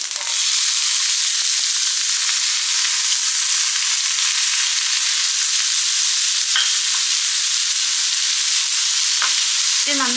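Two medium onions, finely chopped, fry in a pan for a Kerala egg thoran, with a steady loud sizzle and hiss while the pieces are stirred and scraped now and then.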